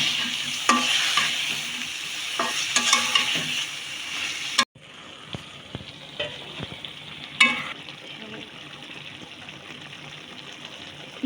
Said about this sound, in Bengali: মশলাটা কষানো শেষ, এবার আমরা এর মধ্যে ঢেলে দিব ঝিঙ্গে